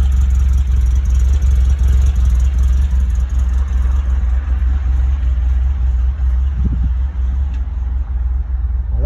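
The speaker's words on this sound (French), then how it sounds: "Attention, j'arrête le moteur." A 1963 Volkswagen Combi T1 eleven-window van idles steadily, its engine making a loud, deep, even rumble that runs without a break throughout.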